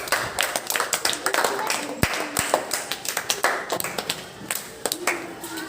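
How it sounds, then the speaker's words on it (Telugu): Schoolchildren clapping in a government primary school classroom, a burst of quick uneven handclaps close by, rising and fading, with a teacher's voice heard over them. "కొట్టండి క్లాప్స్."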